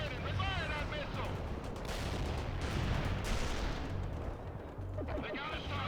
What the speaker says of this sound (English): Sheridan, fire that missile.